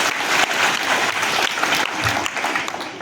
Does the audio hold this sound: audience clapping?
yes